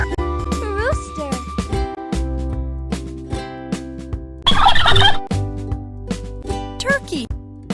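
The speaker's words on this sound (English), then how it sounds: "Turkey." Several rapid, throaty turkey gobbles ring out loud and close, a burst of bubbling calls standing out clearly over a steady background tone.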